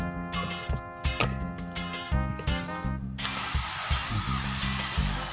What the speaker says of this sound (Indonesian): Nanggung, udah bawa semprotan di sini. Nanti sekalian semprot.